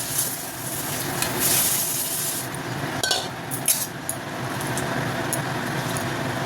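Fish frying in a spiced mustard masala in a pan, a steady close sizzle with occasional light clinks and scrapes of a utensil, no talk.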